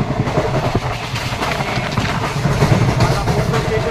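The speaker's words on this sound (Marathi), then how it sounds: "दादरवरून ट्रेन एकदम ऑन टाईम निघाली." A train pulling out of Dadar station in Mumbai, bound for Latur, rumbles loudly and steadily from inside the carriage, with a continuous rattling clatter of wheels and cars.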